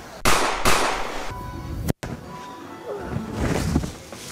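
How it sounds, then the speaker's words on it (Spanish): Celebratory gunshots fired into the air during a Christmas party in the Dominican Republic: several sharp bangs in quick succession, then a lone crack, against a noisy festive background. "Cuando uno está gozoso y emocionado, le sale tirar sus dos tiros para arriba."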